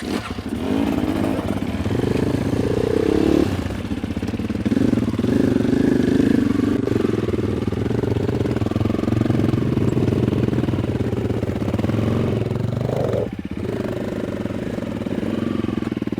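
Several enduro dirt bikes run together in a training session, engines droning loud and steady with revs rising and falling as riders work the clutch, a brief dip partway through.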